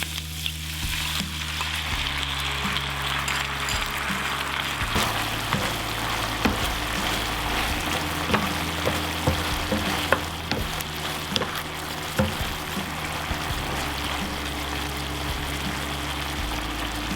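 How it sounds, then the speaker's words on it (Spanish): Shrimp with garlic and oyster sauce frying in a pan, a steady close sizzle with repeated scraping and clacking from stirring throughout, no voices. "Agregamos la salsa y lo mezclamos todo bien."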